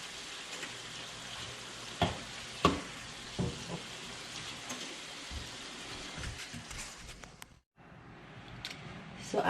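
Shrimp frying in hot oil for crispy salt and pepper shrimp, a quiet steady sizzle with scattered sharp pops and crackles, then a brief drop to near silence before the frying noise resumes.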